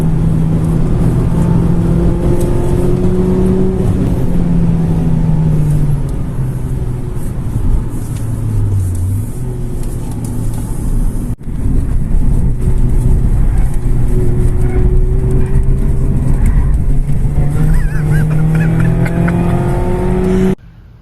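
A car engine drones loudly and continuously on laps of the Nürburgring race track, pitch rising and falling as it accelerates and shifts through gears, with a brief cut partway through.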